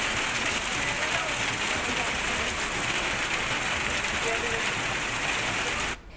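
Steady rain falls across Sylhet, Moulvibazar and Netrokona, a dense even hiss that holds at moderate level for about six seconds before cutting off abruptly.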